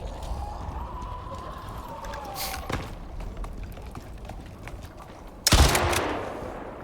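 Kinetic rifle fire in the survival game Icarus: a few sharp shots, one loud close burst near the end, over faint ambient noise and a soft tonal hum.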